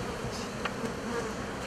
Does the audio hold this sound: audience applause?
no